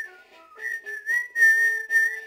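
Someone whistles a short, wavering tune of several sustained notes that slide up and down, fairly close and clear, with no talking over it.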